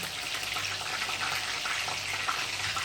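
Steady crackling sizzle of cutlets frying in a pan, close and continuous, with a soft hiss throughout and no talking.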